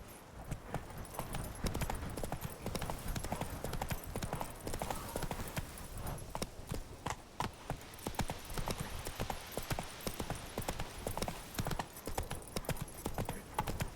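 Roach the horse gallops in a video game, a quick continuous clip-clop of hooves pounding on without a break, with faint game ambience underneath.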